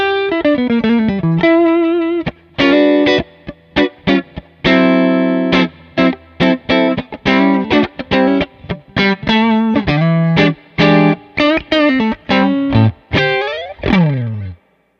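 An electric guitar played through a clean-ish amp with slight grit, chords and single notes in bursts with short pauses, loud and close.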